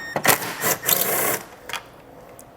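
Short whirring bursts from a power driver fitted with a T30 Torx bit backing out a taillight fastener on a 2022 Jeep, several close buzzing pulses in the first second and a half, then a few faint clicks.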